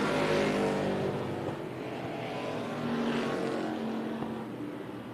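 NASCAR weekly-series race cars at Tucson Speedway, several engines roaring together as they run side by side, a steady loud drone that swells and fades slightly as the pack passes, with no talk.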